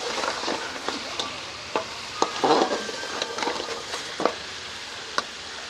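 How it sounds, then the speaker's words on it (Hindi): Beef nalli bone marrow pieces sizzle and fry in a pot, a constant crackling hiss broken by occasional scraping stirs and louder spits, close and without talk. "नलियों को भूनते हुए 6 से 7 मिनट हो गए हैं"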